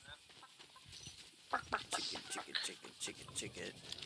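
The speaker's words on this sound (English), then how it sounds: "chicken on your right, chicken on your left." Chickens in the Fortnite video game give short, scattered clucks and squawks amid game sounds, with players talking over them.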